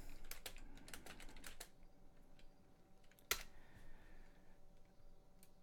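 Quiet, close-up typing on a computer keyboard: a fast burst of keystrokes, a pause, then sparse taps and one sharper click, all faint over a low background hum.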